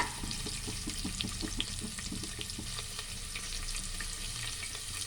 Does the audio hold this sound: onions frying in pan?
yes